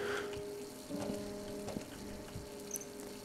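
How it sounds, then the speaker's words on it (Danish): Water running in the horror video game Layers of Fear, a quiet steady trickle with soft patter and faint tonal hum, heard alone with no talk. "Jeg synes nok, jeg hørte vandet løbe."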